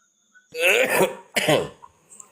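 Two loud, harsh coughing bursts close to the microphone, the second slightly shorter, followed by quiet.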